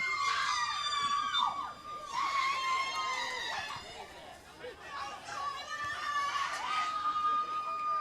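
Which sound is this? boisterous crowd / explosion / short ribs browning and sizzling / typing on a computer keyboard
boisterous crowd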